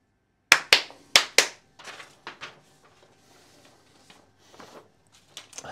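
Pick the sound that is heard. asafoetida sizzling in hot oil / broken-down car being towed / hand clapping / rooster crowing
hand clapping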